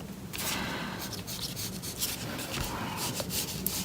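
Eraser rubbing pencil lines off paper while sketching an origami shirt shape, a continuous soft scratchy friction with brief strokes, close and steady throughout, with no talk.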